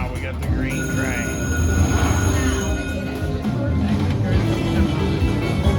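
Train sound effect from the Railroad Riches online slot game: rumbling rail noise with squealing wheels, steady and fairly loud for about six seconds, mixed with game tones and a voice talking over it.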